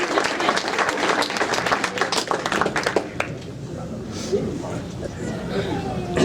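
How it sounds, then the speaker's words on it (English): A sports hall of fame induction banquet audience bursting into applause, dense clapping for about three seconds that then fades into crowd chatter and scattered laughter. "We really need a round of applause for Tony."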